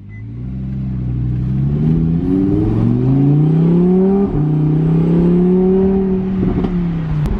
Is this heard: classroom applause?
no